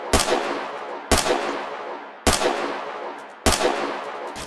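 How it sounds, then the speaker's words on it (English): Gunfire from an enemy compound in the Roblox game World at War: four sharp, loud shots, each about a second apart, every crack trailing off in a short echo. "The enemy is now firing at us."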